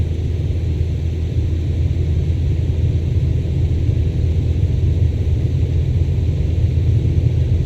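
In MSFS 2024, a plane runs at full throttle for takeoff from runway 24L, a steady, loud engine roar with broadband rushing noise and no break.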